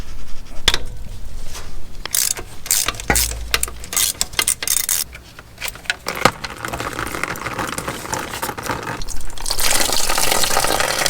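Coolant drains from a Honda Acty engine during a timing belt job, a trickling, splashing flow with scattered metallic clinks and knocks nearby.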